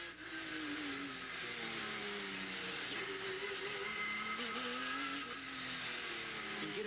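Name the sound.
Trans-Am race car driving down the straightaway, in-car camera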